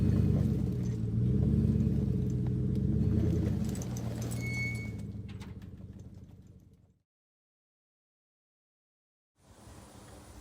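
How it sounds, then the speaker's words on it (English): A stock Chevrolet Silverado pickup truck pulls out with a loud, low engine rumble that tapers off and stops, followed by silence and then faint background noise. "let me hop in the Silverado and get this 80 out into the light"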